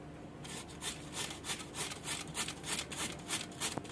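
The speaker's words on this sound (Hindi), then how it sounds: "सबसे बारीक जगह जो होती है कद्दूकस में, वहाँ से हम इसको कद्दूकस कर रहे हैं।" A bottle gourd rubbed against the finest holes of a kitchen grater while making gourd kheer, giving a steady rhythmic rasp of about a dozen close, even back-and-forth strokes, heard alone.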